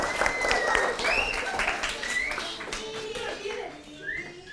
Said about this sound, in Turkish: Alkışlıyoruz çok güzel.